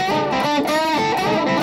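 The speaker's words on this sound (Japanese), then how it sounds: "その3、ノイズ混じりのチョーキング。" Electric guitar string bend played with unwanted noise mixed in, a distorted, effects-laden tone sustaining steadily with pitch sliding upward, loud and alone.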